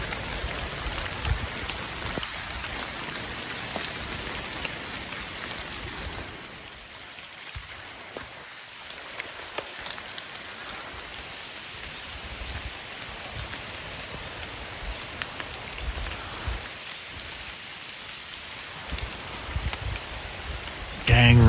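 Steady rain falls outdoors as a broad, continuous hiss with scattered drop patter, fairly loud and unbroken throughout, with a brief quieter stretch partway through and no talking.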